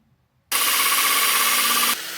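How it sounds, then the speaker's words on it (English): A power drill bores holes into lava rock, a single loud continuous grinding whine that starts abruptly after a moment of silence and cuts off near the end. "I drilled holes in the rock to place the ladder legs"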